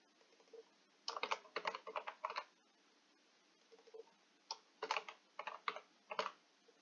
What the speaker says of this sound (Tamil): ஸோ பிளேஸும் நம்ம மாற்றி டைப் பண்ணிக்கிறேன்